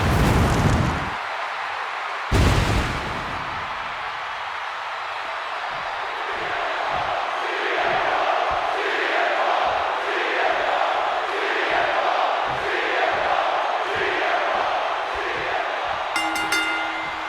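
WrestleMania arena crowd in the WWE 2K26 video game roars in a loud, sustained wash of cheering, with sharp bursts near the start and rhythmic chanting pulses throughout.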